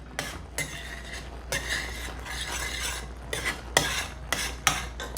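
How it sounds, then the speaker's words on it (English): Spoon stirring black peppercorn and mushroom sauce in a pan, a series of close scraping sweeps and light clinks against the metal in irregular bursts, with no voices. "Give it a little bit of a stir."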